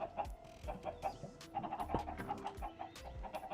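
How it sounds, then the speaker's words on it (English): Several chickens in a Minecraft-style Create mod game cluck and squawk in quick, overlapping bursts amid scattered clicks and thin tones, moderately quiet and fairly busy. "Let me go over on the other side so I don't let the chickens out."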